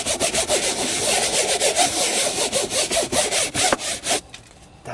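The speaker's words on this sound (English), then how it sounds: "get in there and really give it a good scrubbing" A brush scrubs a Volkswagen SportWagen's surface with Koch Chemie Korrosol cleaner: rapid, close, rhythmic back-and-forth rasping strokes that continue steadily before stopping near the end.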